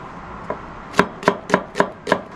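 Knife chopping onion on a cutting board, one light tap followed by five firm, evenly spaced chops close by, with no talking.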